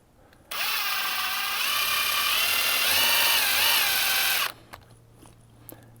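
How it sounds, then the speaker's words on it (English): A tapered reamer bit whines steadily for about four seconds as it enlarges a hole in a Jeep TJ taillight housing, a loud close power-tool drone starting and stopping abruptly. "instead of using an actual drill bit, I have a reamer bit that's just tapered"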